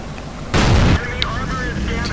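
A tank cannon fires in World of Tanks during a T29 battle: one loud, heavy boom that holds for about half a second, then fades into low rumbling ambience.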